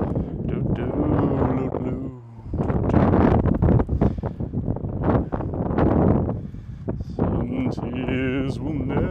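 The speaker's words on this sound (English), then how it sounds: "Can you hear that wind trying to come through the mic?" Heavy wind buffets the microphone in continuous loud rumbling gusts, dipping briefly before surging again, with a person talking over much of it.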